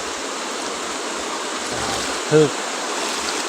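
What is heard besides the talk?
floodwater from the Xe Bang Fai river flowing through a house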